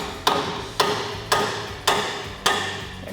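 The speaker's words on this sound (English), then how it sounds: "We're not reusing these, so I'm just going to hammer them off." A hammer strikes a Jeep Wrangler TJ sway bar link in five evenly spaced metallic blows about half a second apart, each sharp hit ringing briefly, close and clear with no talk.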